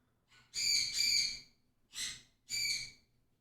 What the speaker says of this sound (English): What's with those birds?